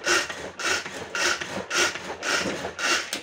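A thin, narrow spatula scrapes a bowl of microwave ricotta cheesecake batter, giving six rhythmic rubbing strokes about half a second apart, close and fairly loud with no talking.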